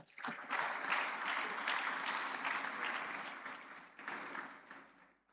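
Applause at the Lagos Business School Executive Programmes graduation ceremony honours the graduating executives: a soft, distant wash of clapping that swells early, holds, then picks up again before fading.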